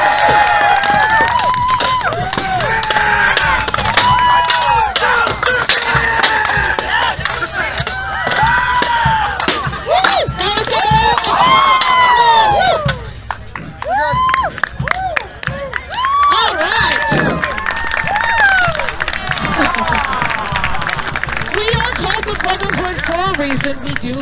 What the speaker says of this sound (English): And if you cheer, they hit harder.